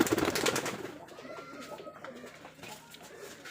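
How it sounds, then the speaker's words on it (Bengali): Giribaz pigeons cooing nearby, soft throaty calls loudest at the start, then fading into quieter rustling and faint background noise. "এগুলো গিরিবাজ কবুতর খুব ভালো জাতের কবুতর"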